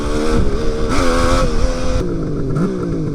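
A Suzuki GT550 three-cylinder two-stroke motorcycle being ridden, its engine buzzing loudly and continuously up close with rising and falling revs and shifting pitch.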